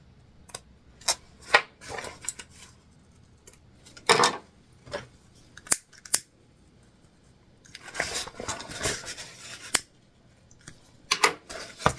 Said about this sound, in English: we're just going to cut away and burn our extra thread